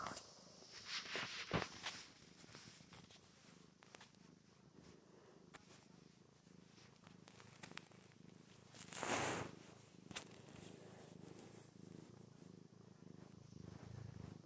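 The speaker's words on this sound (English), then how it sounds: "He's purring so much that his paw's moving." A cat purrs close and soft in a steady low rumble, joined by a few rustles and one louder brushing burst partway through.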